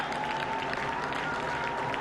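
Spectators lining the Berlin Marathon course clap together in the Icelandic clap. The sound is a steady, crowded wash of hand claps from a large roadside crowd, with no voices on top.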